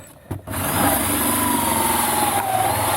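A drill cuts into a part of a Waterford water hydrant. A couple of sharp clicks are followed by a loud, steady motor whine that holds close and continuous to the end.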